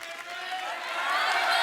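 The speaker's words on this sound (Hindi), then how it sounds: "जोरदार तालियां हो जाए।" Studio audience on The Kapil Sharma Show breaking into applause, a broad wash of clapping that swells and grows louder over a couple of seconds.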